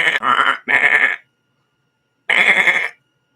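Three loud, close goat bleats, two quick ones back to back followed after a pause by a third, each a wavering nasal cry with no talking around them.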